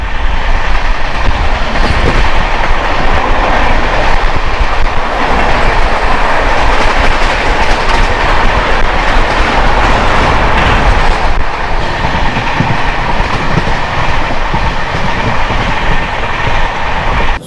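The Titlagarh–Howrah Ispat Express rumbles past close by on an adjacent track near Sambalpur, India, with a loud, steady roar and faint rhythmic clatter of wheels on rails, continuing for the whole stretch.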